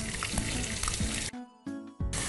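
Cumin seeds and finely chopped onion hit hot oil, giving a steady loud hiss and sizzle close by. The hiss briefly drops out once and then comes back.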